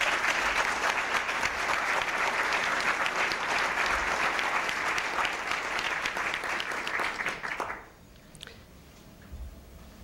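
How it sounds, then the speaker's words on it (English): Loud, sustained audience applause fills a press club luncheon hall, a dense steady clatter of many hands that fades away quickly near the end, leaving quiet room tone. "I think they deserve a round of applause"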